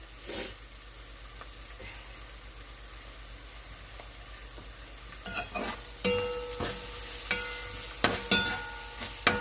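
Onions and garlic fry in a pan, a soft continuous sizzle that grows busier midway, broken by scraping stirs and sharp spatters.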